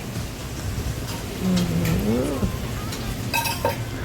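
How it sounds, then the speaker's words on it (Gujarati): Potatoes fry in oil with red chili for Gujarati bhungra bateta, giving a steady close sizzle. A brief rising tonal sound cuts in midway, and light utensil clinks come near the end. "તેલમાં બટેટા નાખી દીધા પછી આપણે નાખી દીધું મરચું।"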